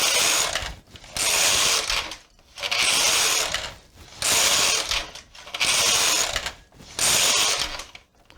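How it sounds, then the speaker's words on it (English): Knitting machine carriage sliding back and forth across rows of stitches, a rhythmic mechanical rasping clatter in about five even passes with short pauses between, close and clear. "And so now I'm going to knit 6 more rows."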